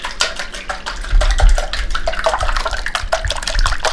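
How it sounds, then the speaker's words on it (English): Eggs with a little water whisked by hand in a bowl, giving a quick, steady run of soft wet clicks and splashes that lasts throughout, close and fairly loud. "So I put a little bit of water in my eggs, and then I beat them."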